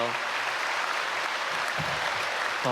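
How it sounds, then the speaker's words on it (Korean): A church congregation at a Sunday worship service claps to welcome newly registered members, a steady wash of many hands clapping, with a voice speaking briefly near the end. "우리 크게 박수로 환영하겠습니다."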